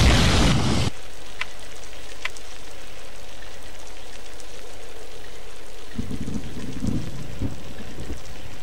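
Rain and thunder in the video game Alone in the Dark: The New Nightmare: a loud burst opens, then a steady rain hiss continues, with low rumbling thunder swelling near the end.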